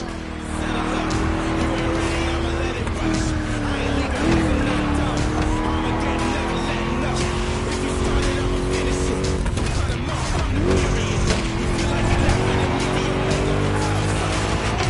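Racing cars in The Crew Motorfest roar through a continuous, loud engine drone with shifting pitch and occasional tire squeals, steady throughout with no voices.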